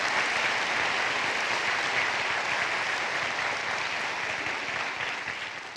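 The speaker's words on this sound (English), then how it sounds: "celebrate these graduates with me with another round of applause" Sustained audience applause for graduates at a college commencement, a dense even wash of clapping held steady for several seconds before easing slightly at the end.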